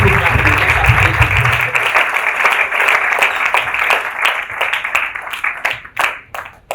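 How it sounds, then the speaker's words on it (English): Applause from a conference audience at an aviation careers gathering, a sustained mass of clapping that gradually breaks into sparser individual claps as it dies down. "Please, I like people clapping."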